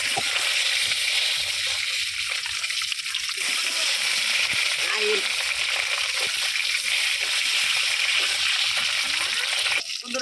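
Duck eggs frying in hot oil with turmeric in a pan, a steady close hiss and sizzle running unbroken throughout, with a few faint splatters.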